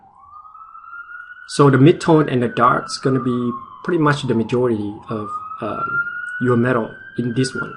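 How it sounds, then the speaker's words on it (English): An emergency vehicle siren wails outside, rising and falling steadily behind someone talking close to the microphone. "yeah, sorry about the sirens."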